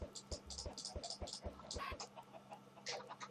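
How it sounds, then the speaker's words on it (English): Chickens hatched from thrown eggs in a block-building video game cluck in a quick, irregular series of short, fairly loud calls close by, with a brief pause before a few more clucks near the end. "I'll try not to kill the chickens that I'm hatching from these eggs."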